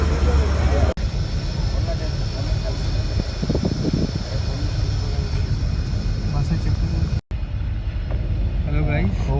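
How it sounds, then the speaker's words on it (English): A bus pulls up at a roadside stop in Odisha, its engine a steady low rumble over continuous traffic and outdoor noise. People talk nearby throughout. "So my bus has arrived."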